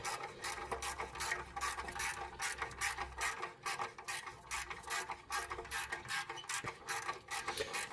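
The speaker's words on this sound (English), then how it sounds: "So I like to try and use a quarter or a smaller 1/4 inch ratchet to get all these guys out," A 1/4 inch ratchet removing bolts from a HEMI engine's manifold clicks in quick, steady runs of ticks, up close and fairly quiet, with brief pauses between strokes.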